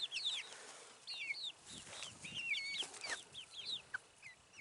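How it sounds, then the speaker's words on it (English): Chickens and a rooster cluck on a small farm with goats, sounding as short, scattered, fairly faint calls that overlap in quick bursts against a quiet background. "I do believe we do have a rooster."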